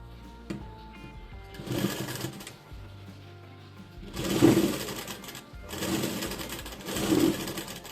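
A sewing machine stitches a three-piece princess-cut blouse, running in short bursts of rapid, steady needle chatter with quiet pauses between runs. The sound is close and moderately loud.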